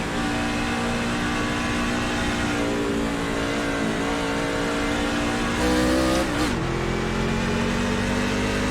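A damaged NASCAR Class C race car in iRacing drones steadily at Las Vegas Motor Speedway, its hurt engine holding a loud sustained whine, then dipping and climbing again as it pulls through the gears, with no voices.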